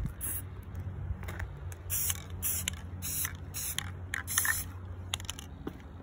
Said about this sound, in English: I'm coming in with my Rust-Oleum 2x black, matte black, and I'm just gonna spray this.